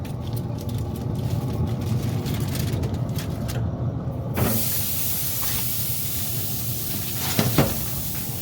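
Liquid is sprayed onto garlic-rubbed pork ribs at a barbecue, a steady hissing spray with a few sharper bursts near the end, close and alone with no talk.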